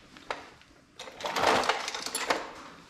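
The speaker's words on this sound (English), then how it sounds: "you can use a small ratchet" A small ratchet loosens a 10 mm nut on a Honda ATC three-wheeler, giving bursts of quick, close mechanical clicking that grow busier and louder in the second half.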